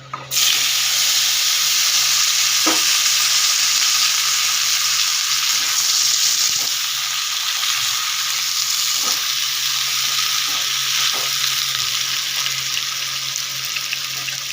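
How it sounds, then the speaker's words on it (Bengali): Cut bottle gourd and potato frying in a pan, a loud steady sizzle throughout with a few soft stirring knocks, no talking. "এখানে যে লাউ আর আলুটা যে কেটে রেখেছি এটা আমি দিয়ে দেবো এবার"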